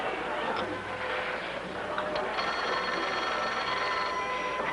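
A telephone bell rings in a 1950s sitcom home interior, a steady ringing tone that sets in partway through over a busy, noisy background.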